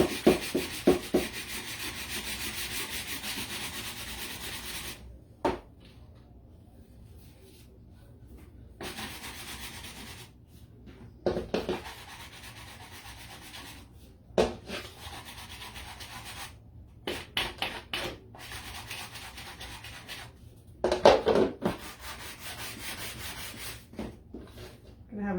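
A painted wooden cookie-sheet sign is sanded by hand in steady rasping strokes, with bursts of scrubbing broken by short pauses, close and fairly quiet.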